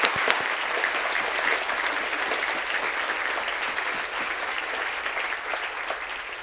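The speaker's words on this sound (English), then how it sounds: "Big round of applause," Dense, sustained applause from a live audience at the Hay Festival, loud and steady throughout, fading slightly near the end with no voices over it.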